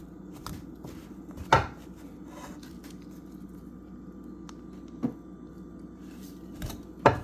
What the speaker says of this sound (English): I'm going to take my pastry cutter and I'm going to incorporate the butter into this